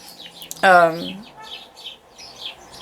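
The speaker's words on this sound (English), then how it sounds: "we are hearing the birds, by the way" Small birds chirp faintly in the background with scattered short tweets, while one louder, brief tonal call stands out near the start.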